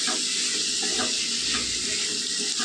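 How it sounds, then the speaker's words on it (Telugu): Chili powder sizzles in hot oil for ash gourd curry with a dense, steady, loud hiss that holds unbroken throughout, close up and alone. "కారం నూనెలో వేగితే పచ్చివాసన పోతుందండి"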